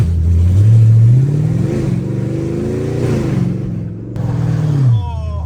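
A Mercedes C63 engine revs up and holds a high drone, easing down then climbing again as the car drives, loud and close with no voices.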